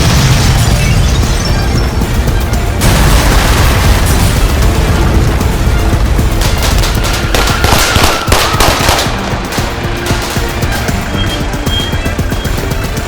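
A bomb goes off in a Turkish TV drama ambush scene: a loud, sustained blast roar with crackling debris and rumbling that gradually tapers, heard up close.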